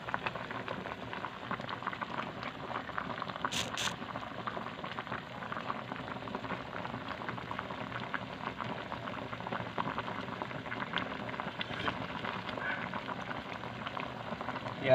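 Sinigang na bangus, a milkfish and tomato soup, boils steadily in a pot, giving a dense, even bubbling that runs unbroken throughout.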